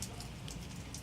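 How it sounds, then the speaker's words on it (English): Heavy rain at night pours down steadily, a dense continuous hiss of drops hitting surfaces with no breaks, loud and close. "it was raining really hard"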